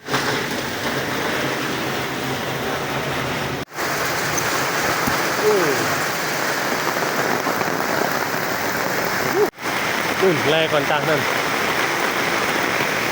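Rain pours steadily onto streets and surfaces in Surat Thani, Thailand, at midday, a dense continuous hiss broken by two brief cuts, while someone speaks briefly over it.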